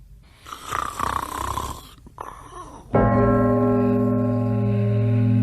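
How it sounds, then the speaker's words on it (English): A sleeping man snores loudly with rough, rasping breaths, then breaks into a long, sustained snorting drone that holds steady to the end. "He sat up in bed suddenly, in the midst of a prodigious snore."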